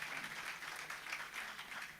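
A conference audience at a CEO investors forum gives a round of applause, a continuous dense patter of many hands clapping, fairly faint and distant throughout.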